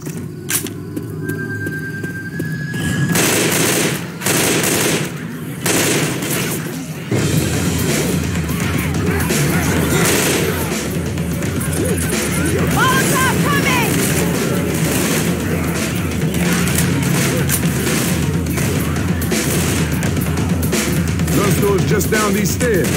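Rapid explosive-round gunfire from a Left 4 Dead match with a Minecraft-style mod, a dense run of booming shots and blasts filling the scene through a hotel and streets, with brief voices now and then.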